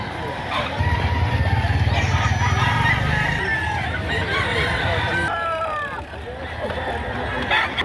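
Several roosters crow and hens cluck at a chicken market, calls overlapping near and far over a low motor rumble and background voices.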